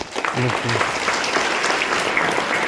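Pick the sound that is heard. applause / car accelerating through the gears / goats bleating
applause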